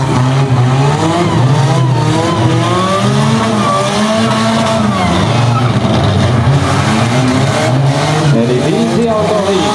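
Rally cars racing at a scrap-car rally event in Lappeenranta, five cars on the track, with loud continuous engine roar and revving that rises and falls, tire noise mixed in, and voices talking over it throughout.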